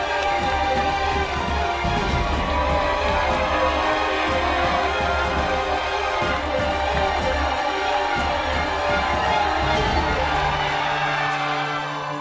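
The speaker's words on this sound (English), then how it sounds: "where they are cheered on by the crowd" A crowd lines the streets of Saint-Gervais during the UTMB Mont-Blanc trail race, cheering elite runners as they pass in a pack; a dense, steady roar of voices and clapping continues without a break.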